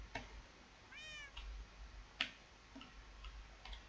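A pig character in a video game hide-and-seek minigame lets out a single faint, rising meow, surrounded by sparse ticking clicks and quiet game noise.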